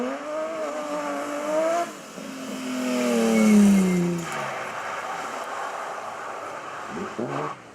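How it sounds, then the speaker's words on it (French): A Citroën Xsara rally car runs through a slalom course, its engine rising in pitch as it accelerates, then swelling loudly as it passes close by before fading under steady outdoor noise. "Vincent et la Citroën Xara. Magnifique passage."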